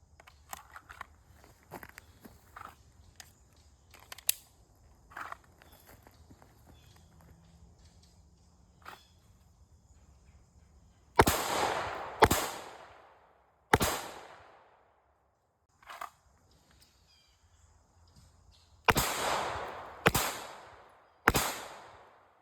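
Handgun rounds fired downrange at a shooting range during a hand-switch drill, sharp loud cracks in two clusters of three with short gaps between, preceded by quiet handling clicks and rustling.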